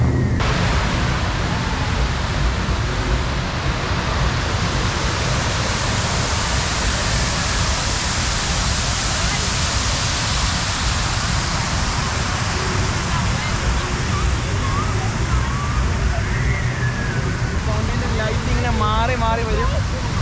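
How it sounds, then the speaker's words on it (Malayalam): Water jets in a Chicago fountain lit by color-changing LED lights spray and splash continuously, a loud broad rushing wash close by, with people talking faintly beneath it. "അത് വെള്ളം ചാടിക്കൊണ്ടിരിക്കുന്നു."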